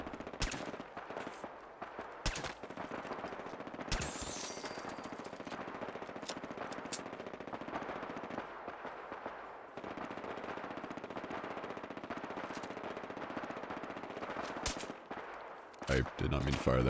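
Gunfire in the video game Fallout 4 comes as sharp bursts and rapid volleys over a steady background drone, with several loud cracks spread across the stretch and a final cluster near the end.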